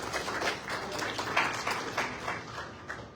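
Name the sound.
applause for Momin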